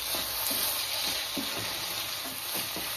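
Desiccated coconut and ground paste are stirred in a hot pan for pineapple rice, giving a continuous soft sizzle with light scraping strokes of the spoon, close and steady.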